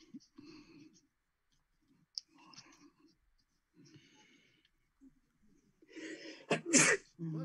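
A single sharp sneeze bursts out near the end during a tabletop card game, loud and close, following quieter speech and card handling sounds earlier.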